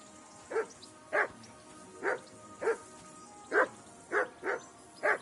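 Repeated barking from a dog in the video game Kingdom Come: Deliverance, single clear barks spaced roughly half a second to a second apart, moderately close and heard alone without talk.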